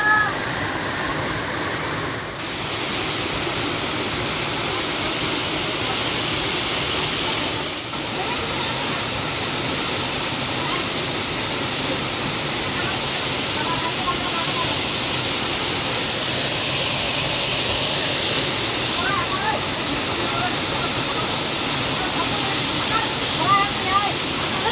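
Bamni waterfall on Ajodhya hill in Purulia roars as a steady, loud wash of rushing water that fills the whole stretch, swelling slightly brighter midway as the flow strengthens, with faint voices mixed into the spray.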